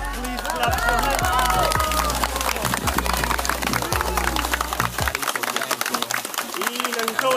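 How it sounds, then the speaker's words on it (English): Dense clapping from an audience at an entertainment show in Varadero, Cuba, steady and near, with voices and crowd babble over it, then music dropping out partway. "Please clap your hands"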